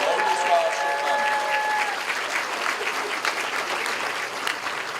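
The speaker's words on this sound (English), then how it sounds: "Let's please give these donors one more round of applause." Audience applause at a high school senior scholarship night, sustained and steady clapping from a full room, loud and close, lasting the whole stretch.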